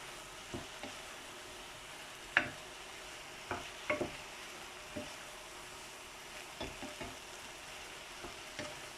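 Fajita filling stirred in a sizzling pan, a steady soft fry hiss with scattered light scrapes and taps of the utensil against the pan, fairly quiet and without talk.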